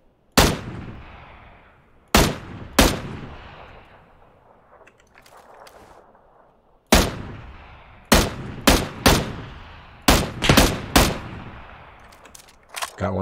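Shooter video game gunfire: a dozen or so sharp, loud, close shots in irregular clusters, some fired in quick pairs and triplets, with ringing tails between them.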